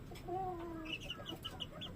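Chickens and chicks clucking and peeping close by, with a short drawn-out call followed by a quick series of faint, high chirps over a soft background hum.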